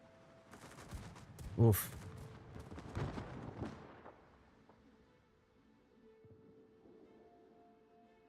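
Torpedoes from the Gdansk, a ship in World of Warships, strike in a burst of heavy explosive booms around the second and third seconds, then fade into rumbling battle ambience while a voice briefly reacts.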